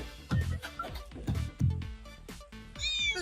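A cat meows several times in a Hindi-dubbed film scene, with short, rising and falling cries close by and a few thuds between them.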